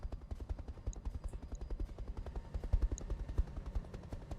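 A vehicle's machine guns fire in the BattleTech video game, as a long rapid burst of evenly spaced, thumping shots that stays loud and close throughout.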